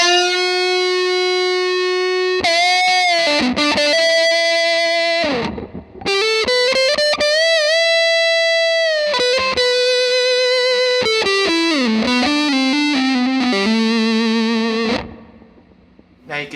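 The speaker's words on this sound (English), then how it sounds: "Now let's try a little bit of lead through it and see what we get." Lead electric guitar driven through an EHX Triangle Big Muff reissue fuzz, played as loud, sustained, harmonically thick notes with bends and slides, long ringing phrases that fade out near the end.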